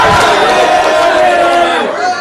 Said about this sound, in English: And the crowd is getting very, very anxious in the grandstand.